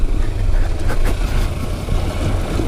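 A 2019 Kawasaki Versys 300 X motorcycle engine running at low revs, a steady low rumbling drone close by with wind noise over it and no speech.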